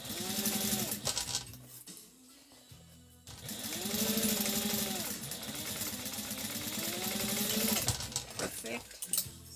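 A sewing machine runs in bursts while stitching fabric dumpling pouches, a close, loud whirring hum with a rising and falling motor pitch, pausing briefly between stitching runs.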